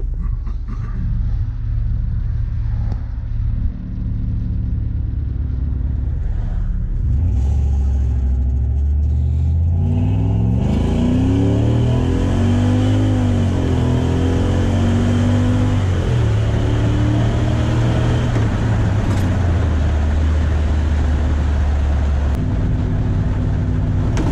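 A 1947 Ford with a 1UZ VVT-i V8 revs up hard, its low drone climbing in pitch as it accelerates, then settles into a loud steady roar with no talking.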